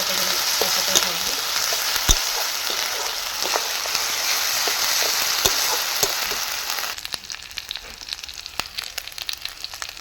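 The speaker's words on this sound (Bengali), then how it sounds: "আবার দিয়ে ভালোভাবে কষাবো মশলাটা। যতক্ষণ তেল না থাকবে ততক্ষণ কষাতে থাকবে।" Chicken masala spice paste sautéing in hot oil, loud crackling sizzle with sharp spattering pops and stirring for about seven seconds, then a quieter, thinner hiss.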